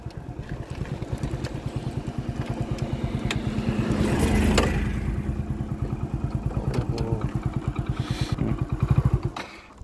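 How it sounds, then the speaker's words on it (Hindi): A motorcycle engine pulses steadily up close, rising in pitch and then dropping as the rider shifts through gears, with a continuous rumble throughout. "ऐसे करके सारे गियर शिफ्ट टू कर दिया और फिर हमारा बाइक कंटिन्यू चलना शुरू हो जाएगा।"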